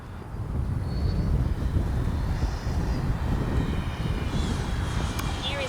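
Freewing 90mm T-45 RC jet making a flying pass, a loud, broad jet roar with wind buffeting that holds steady for several seconds, close to the microphone.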